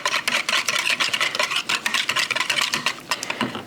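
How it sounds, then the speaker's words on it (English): A spoon stirs a mixture for smoked keto barbecue ribs, with steady scraping and clinking strokes in a quick continuous rhythm, close and fairly loud, and no talking. "I'm going to give it a little stir"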